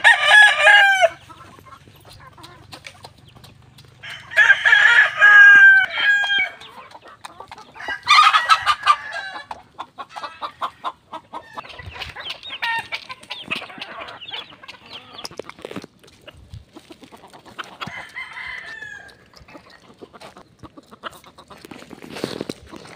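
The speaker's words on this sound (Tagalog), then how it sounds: "kumakain na po ang ating mga tandang dito" Roosters crow loudly several times in bursts while being fed, with scattered clucking and pecking-like taps in between; no talking.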